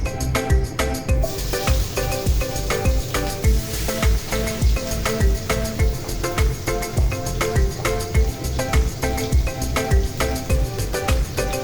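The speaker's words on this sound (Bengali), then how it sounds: "এখন দিয়ে দিব পেঁয়াজ কুচি।" Chopped onion sizzles and fries loudly in a hot pan for a hilsa fish vegetable curry, a dense, steady crackle close up with rhythmic stirring scrapes and no talk.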